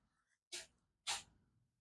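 Two small, sharp cat sneezes about half a second apart, close by in a quiet room, each a brief hissing burst.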